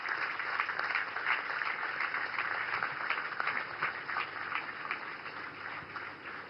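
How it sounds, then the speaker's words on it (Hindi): A large crowd at a naval commissioning ceremony for the warships INS Surat, INS Nilgiri and INS Vagsheer applauds in a thick, sustained wash of clapping. It sounds slightly distant and muffled and tapers a little near the end. "जोरदार तालियों के साथ स्वागत कीजिए आईएनएस सूरत, आईएनएस नीलगिरी,"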